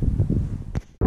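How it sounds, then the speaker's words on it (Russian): Strong wind buffets a microphone in an open field, a loud low rumbling roar in uneven gusts that cuts out briefly near the end. "Сильный ветер."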